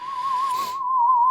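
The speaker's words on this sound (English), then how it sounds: "we do have the original sine lead from the original track" Original sine lead synth from a track plays one pure sustained tone, clean and steady, briefly alone in a short excerpt.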